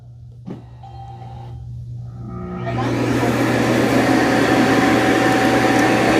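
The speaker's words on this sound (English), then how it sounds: "So it's auto emptying the robot." An Ecovacs Deebot T30S docking station auto-empties its robot vacuum: after a few faint clicks and a short whir, a loud, steady suction roar builds and runs on continuously at close range.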